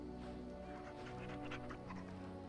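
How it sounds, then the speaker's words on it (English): A dog in the video game Dragon Age: Origins, being petted, gives soft panting and small whimpering sounds over steady game music, close and fairly quiet throughout. "After we pet the dog."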